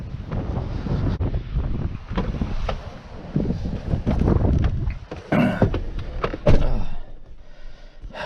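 Gusty wind buffets the microphone on a jetty in South Texas by the sea, with loud rumbling blasts that rise and fall irregularly and waves faint underneath.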